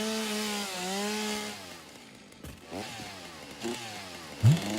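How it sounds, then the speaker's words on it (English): A chainsaw runs in the video game Satisfactory, its engine buzzing loudly with wavering revs that drop and surge again as it cuts, with a sharp burst near the end. "It's also not mining, it's chainsawing."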